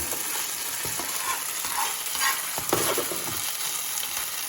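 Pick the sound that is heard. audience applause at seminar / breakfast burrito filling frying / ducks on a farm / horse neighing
breakfast burrito filling frying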